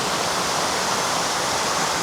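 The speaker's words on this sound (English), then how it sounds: "go sit near running water, like a creek or a cascadey kind of thing like this, or waterfall" Running water of a cascading creek in Ku-ring-gai Wildflower Garden, a loud, close, steady rushing hiss with no pauses or voices.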